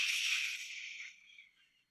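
Another falling-match sound effect: a breathy, high hiss lasting about two seconds, steady at first, then tapering away gradually until it dies out.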